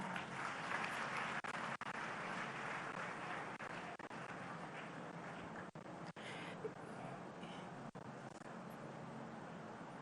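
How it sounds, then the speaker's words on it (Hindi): Crowd applause at a women's self-help group orientation event, broad continuous clapping heard at low level and slightly distant, with a few brief dropouts and no speech. "जोरदार तालियां"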